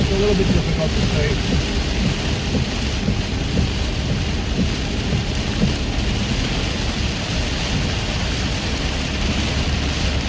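Steady rain drums on a car during a storm, with low rumbles of thunder rolling underneath; a voice speaks briefly over the continuous wash.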